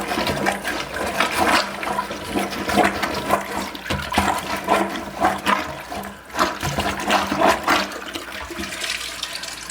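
A clogged toilet being flushed, a loud continuous rushing and gurgling of water lasting several seconds, with surging pulses as the bowl struggles to drain.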